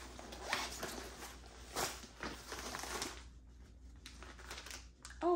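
A zipper on a new travel luggage bag is drawn open in a few quiet, raspy strokes, close and soft, followed by a brief pause and light handling.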